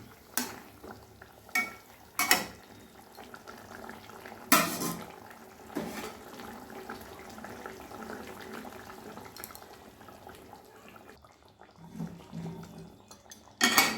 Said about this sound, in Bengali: মাছগুলো দিয়ে দিলাম। ঝোলের সঙ্গে খুব মিশিয়ে দেব।